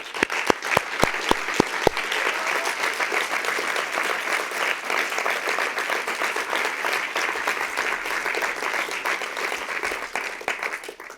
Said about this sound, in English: Please help me in giving each of these women a round of applause.